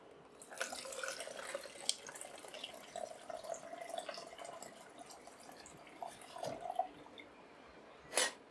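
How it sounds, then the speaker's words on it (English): Quiet running water from a tap poured in to stop black-and-white slide film developing, a soft steady trickle with faint splashes and a brief louder gush near the end. "I will quickly pour in some water to stop the developing process"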